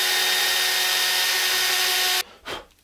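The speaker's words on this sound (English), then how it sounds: "I'm just gonna drill some holes." A power drill whirs steadily with a bright motor whine while boring holes in the cover plate of a Les Paul guitar, then cuts off abruptly, leaving a brief rustle and clunk.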